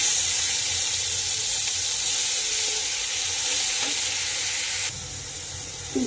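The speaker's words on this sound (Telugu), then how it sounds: "మన చేత పక్కన పెట్టేసి ఈ ఆయిల్లోనే కొంచెం మసాలా పేస్ట్ వేసుకుందాం." Masala paste frying in hot oil left over from frying dried fish, a loud, dense, continuous sizzle that holds steady and eases slightly near the end.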